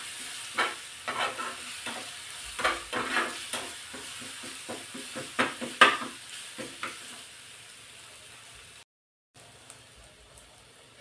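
Aloo and sweet potato paratha filling sautéed in oil in a pan, with stirring scrapes and soft sizzling in irregular bursts, close and moderately quiet, ending with a brief dropout and a faint tail.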